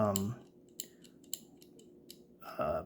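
Soft, sparse mechanical clicks from the trigger mechanism of a Glock 19X Gen 5 BB pistol, a few faint ticks spread apart, with brief breathy voice sounds at the start and end.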